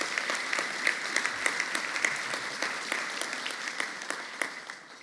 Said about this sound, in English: How about one more round of applause for these honorees?